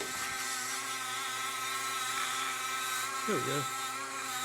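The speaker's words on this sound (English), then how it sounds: "I'm going to get down into these edges here with my little tool here for the Dremel." A small Dremel rotary tool whines steadily and close while grinding paint off a Stanley 19-400 miter vise. A brief spoken remark rises over the motor near the end.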